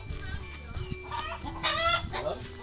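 Chickens cluck and squawk at moderate distance in an outdoor farmyard, with several overlapping calls over a low background rumble.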